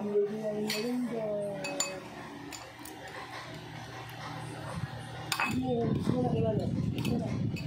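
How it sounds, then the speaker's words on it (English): Dishes and cutlery clinking and scraping at a sink while washing up after a ramyun meal, intermittent close clatter with a person talking over it and brief moments of running water. "Just to finish the ramyun, we'll wash the dishes."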